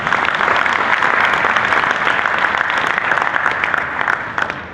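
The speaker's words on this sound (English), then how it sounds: "She deserves a big round of applause." Sustained audience applause fills a hall at a traders' conclave, a dense, loud wash of many hands clapping at once that holds steady throughout and eases slightly toward the end.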